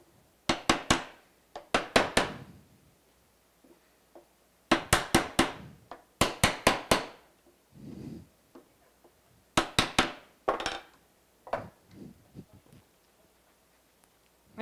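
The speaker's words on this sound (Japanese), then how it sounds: "当て木をして、まあ、入るところも叩いて" Wooden three-board box joint being hammered together over a wooden backing block, sharp close knocks coming in quick clusters of three or four with short pauses between groups.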